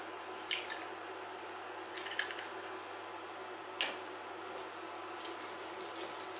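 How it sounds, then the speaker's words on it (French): Soft, sticky squelches and taps as eggs are stirred one by one into thick choux pastry dough, with a few brief, faint wet slaps spaced irregularly over a quiet background. "on remue bien à chaque fois pour incorporer l'œuf"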